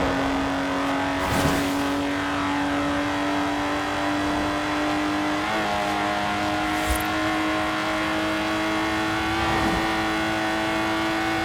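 A Lotus Exige sports car engine driving in Forza Horizon 4, sounding as a steady, loud, close drone with a clear tonal whine that shifts pitch partway through, as if changing gear, and stays continuous throughout.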